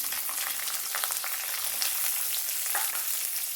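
Shallots, garlic and ginger sauté in a pan with a steady close sizzle, scattered small crackles and pops rising over the constant frying hiss, with no voices.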